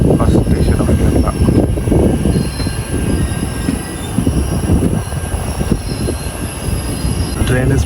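An Indian express train hauled by a Nalaguda shed locomotive runs through Kerala, heard from inside: loud continuous wheel rumble and rattling carriages with squealing rails, no speech.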